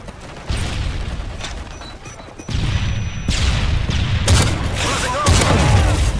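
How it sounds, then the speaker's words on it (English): Predator missile strike in Modern Warfare 3 multiplayer: loud, broadband booming blasts and crashes arrive in several surges over gunfire and battle noise, with announcer-style voices in the background. "Friendly Predator missile inbound."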